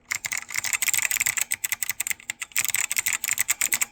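Fast typing on a Focus FK-2001 keyboard fitted with OA2 clicky leaf-clone switches, a dense stream of sharp clicks with a slight metallic ping, close up, briefly pausing mid-burst, with no voices.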